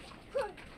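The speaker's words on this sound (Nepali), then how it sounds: "कुकुर हो" A dog on a winding country road gives a single short, sharp bark midway through, moderately close, against quiet outdoor surroundings.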